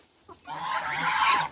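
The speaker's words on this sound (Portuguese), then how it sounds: "Os gansinhos também gostam. Olha o barulho." Young female geese and chickens on a farm at feeding time break into a loud, close chorus of honks and clucks that swells and holds after a brief quiet start.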